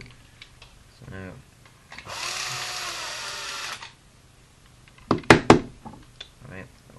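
A power drill whirs through a Nerf blaster rod in one steady burst of nearly two seconds, close and fairly loud, followed by a few sharp knocks and clatters as the part is handled.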